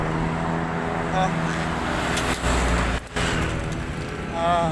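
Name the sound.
traffic of many vehicles passing on a road near Abacan Bridge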